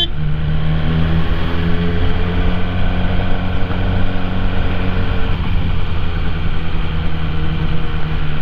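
A BMW S1000R motorcycle engine running steadily while the bike is ridden slowly, a close, even drone with a constant low hum and no talk over it.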